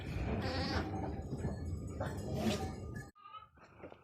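A young lamb bleats repeatedly up close in a village setting, a few cries in a row, with quieter bleats trailing off at the end.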